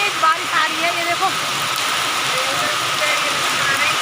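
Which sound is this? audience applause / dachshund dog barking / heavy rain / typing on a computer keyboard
heavy rain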